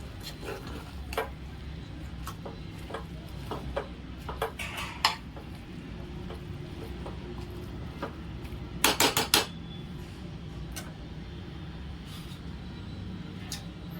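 A spoon scrapes and knocks against a pan while potato and spinach curry is stirred, with scattered metallic clinks and a quick burst of taps near the middle over a quiet background.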